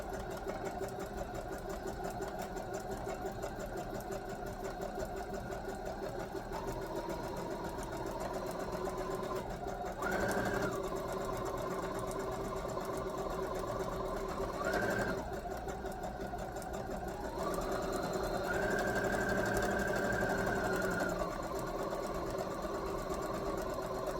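A sewing machine runs steadily as it stitches along a marked line on a Christmas sewing project, a continuous mechanical whir with small shifts in pitch as the speed changes, heard alone with no talking.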